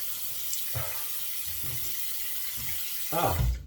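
A bathroom tap runs steadily into a sink for rinsing the face after a shave, a constant close hiss with a few splashing bursts and a louder splash near the end.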